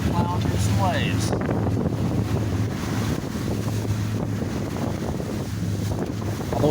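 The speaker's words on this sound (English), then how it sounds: "Right now, just plowing through some waves." A sailboat under motor plows through waves into the wind on a passage toward Great Harbor Cay in the Bahamas, with a loud steady rush of wind buffeting the microphone, engine drone and slapping water throughout.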